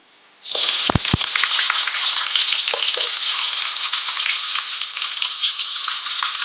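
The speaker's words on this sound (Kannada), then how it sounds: "ಎಲ್ಲವನ್ನು ಹಾಕಿ ಚೆಂದ ಫ್ರೈ ಮಾಡ್ಕೊಳ್ಳೋಣ" Onion, garlic and tomato fry in two spoons of ghee in a pan on the stove, a loud steady sizzle that starts abruptly and holds throughout, with a couple of brief clinks near the start.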